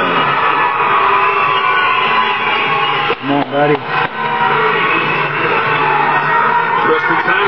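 Crowd noise fills an arena at a Bellator MMA event, a loud, steady roar with brief choppy bursts in the middle, while a commentator talks over it.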